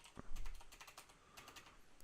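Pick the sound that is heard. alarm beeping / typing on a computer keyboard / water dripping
typing on a computer keyboard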